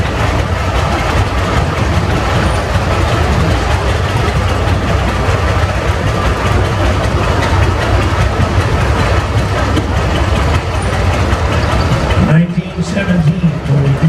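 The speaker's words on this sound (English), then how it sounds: "1919 IHC 1020 owned by Darrell Brothers of Tipton, Iowa" A 1919 IHC 1020 tractor runs in a parade at an old threshers reunion in Mount Pleasant, Iowa, its engine giving a loud, continuous low rumble with a steady chug, while a voice carries over it.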